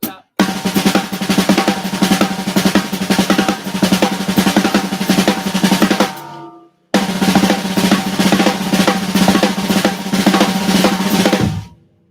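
Fast drum-kit paradiddles played in a continuous loop with double strokes dropped in at random, two dense bursts of steady rapid strokes separated by a short pause, loud and close with no talking.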